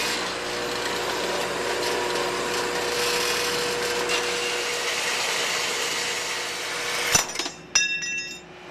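A saw cuts a compound miter through tubing in a home shop, a steady, fairly loud grinding whine that runs for about seven seconds before cutting off, followed by a few sharp clatters and a ringing tail.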